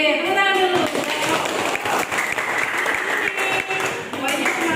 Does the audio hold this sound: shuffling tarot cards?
no